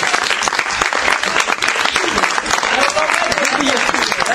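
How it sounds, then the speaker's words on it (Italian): An audience at an improv theatre show claps loudly and continuously, a dense close wash of applause under which a voice is heard speaking. "L'applauso!"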